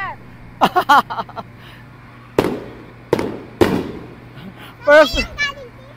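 Fireworks bursting outdoors in Equatorial Guinea as excited people and children watch, a series of sharp cracking bangs spaced irregularly, with cheering and talking between the blasts.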